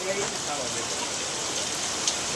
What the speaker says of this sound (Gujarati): જોવા તમે વરસાદ ચાલુ થઈ ગયો